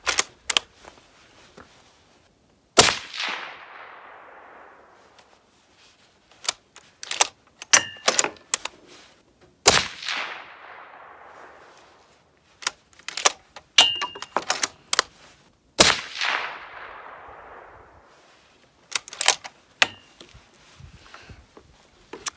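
Three sharp rifle shots firing Federal .308 Power Shok ammunition, each a loud crack with a fading echo, spaced several seconds apart, with quieter clicks and handling sounds between them.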